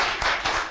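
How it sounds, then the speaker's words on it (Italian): Audience clapping at an Italian 2014 Rossano Veneto cycling event, a short burst of dense applause with a few louder swells, no voices over it. "Un applauso. Ma forte."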